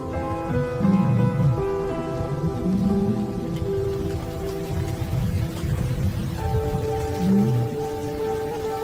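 Heavy rain pours steadily during an African thunderstorm, a dense continuous hiss layered over low rumbling that swells and fades, with no voices.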